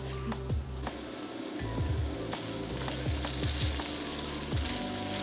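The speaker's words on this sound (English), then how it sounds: "We're just gonna cook this tomato paste into that mixture for about 2 minutes" Tomato paste cooking into a mixture in a pan for vodka pasta, a steady close sizzle broken by several soft scraping stirs and clinks, with no talking.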